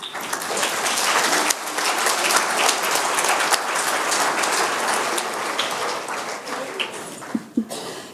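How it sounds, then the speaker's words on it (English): Sustained crowd applause at a 2017 Cornerstone Institute graduation ceremony, a dense steady wash of clapping filling the hall for several seconds before thinning toward the end. "Please let's give our supporters a round of applause."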